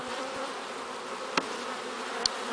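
Honey bees buzzing steadily around an open hive during a colony inspection, a continuous close swarm drone with two brief sharper clicks.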